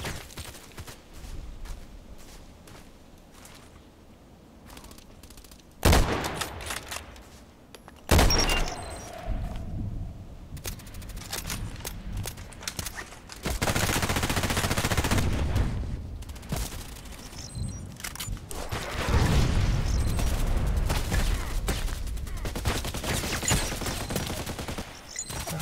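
Bursts of gunfire in a first-person shooter match, with sharp isolated shots followed by longer sustained volleys of rapid fire, loud and close, with quieter gaps between.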